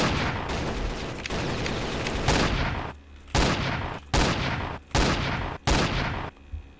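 Rapid cannon fire in Roblox Zeppelin Wars, a loud run of booming shots followed by several separate heavy blasts with short gaps between them, close and dense.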